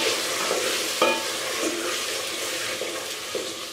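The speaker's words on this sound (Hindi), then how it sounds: "अब मैं इसको मिक्स कर लूँगी" Marinated chicken stirred in a hot frying pan, a steady sizzle with occasional scraping strokes and a sharp utensil knock near the start, no talking.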